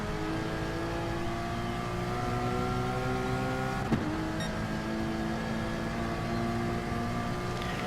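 A Porsche race car engine in a racing video game, lapping Lago Maggiore GP II, drones steadily with rising and falling pitch through gear changes, loud and continuous with no talking.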